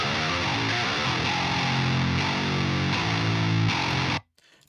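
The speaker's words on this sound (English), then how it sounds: "The second is this super growly sound with more mid-range to it." A super growly distorted metal guitar tone with stronger mid-range chugs through a loud, continuous riff, then stops sharply, leaving a brief faint tail.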